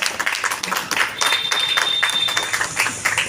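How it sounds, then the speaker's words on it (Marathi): A full round of audience applause greets Anna at his birthday felicitation, with a steady, dense wash of many hands clapping at once and little talk. "जोरदार टाळ्या एकदा."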